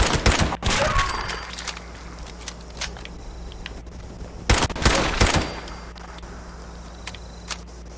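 Pipe gun fire in Fallout 76, with loud bursts of shots at the start and again around the middle, separated by quieter stretches of ambient game sound and a low steady hum.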